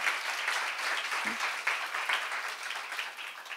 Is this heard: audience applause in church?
yes